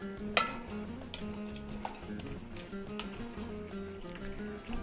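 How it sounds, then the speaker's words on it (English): A spoon stirs a roasted green chili mixture in a pot, giving soft repeated scrapes and light clinks over a low bubbling simmer at close range. "Okay, so let's stir it up."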